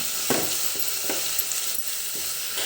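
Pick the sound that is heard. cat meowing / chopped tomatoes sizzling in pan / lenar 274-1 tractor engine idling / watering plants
chopped tomatoes sizzling in pan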